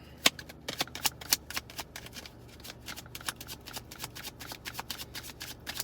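Tarot cards being handled and drawn from a pile, a dense run of close, crisp card flicks and papery riffles with sharp snaps, continuing steadily throughout.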